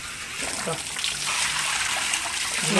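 Water is collected from a tap, heard as a steady rushing, splashing stream filling a container, close up, while a person talks over it.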